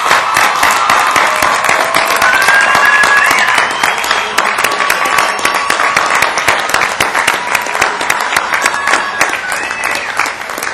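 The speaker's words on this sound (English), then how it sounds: "we ask them to stand for a well-deserved round of applause" A commencement audience gives a long round of applause, dense and loud clapping from a large crowd that stays strong throughout, with faint voices and a few whoops mixed in.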